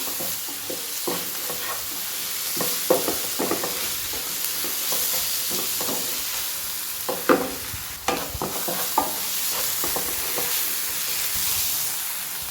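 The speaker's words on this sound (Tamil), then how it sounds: "இது கொஞ்சம் பச்சை வாடை போகட்டும். போகிற அளவுக்கு நம்ம வதக்கிக்கலாம்." Onion mixture for chilli parotta is sautéed in a pan: a steady, close sizzle with a soft hiss runs throughout, broken by scraping spatula strokes and occasional sharper clanks against the metal.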